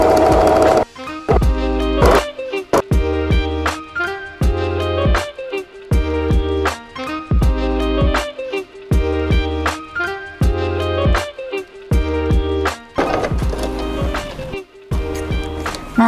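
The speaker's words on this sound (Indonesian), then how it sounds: "jahit setengah sentimeter dari ujung hingga ujung" A sewing machine stitching cotton fabric for culottes runs in steady rhythmic bursts with brief stops between seams, loud and close-up; a voice talks faintly over it now and then.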